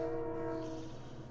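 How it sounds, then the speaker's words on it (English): A train passes close by, its sustained horn tones ringing loud and steady over a low rumble that slowly fades toward the end, with no talk. "of course the train's going by right now"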